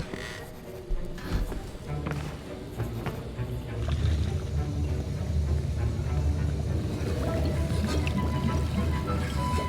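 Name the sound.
stirring a potion in the video game Hogwarts Legacy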